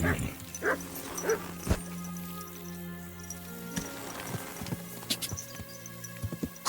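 A dog barks and yips in the medieval role-playing game Kingdom Come: Deliverance 2, several short sharp barks scattered over steady game ambience with hoof-like clopping and faint background music.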